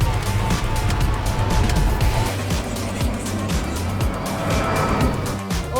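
A Wolf electric truck accelerates hard and corners around obstacles on a course, a loud, continuous rumble of road and motor noise with tire sounds, heard from inside the cab.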